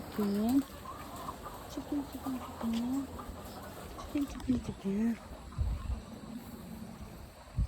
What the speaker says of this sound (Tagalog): Maraming chicken dito.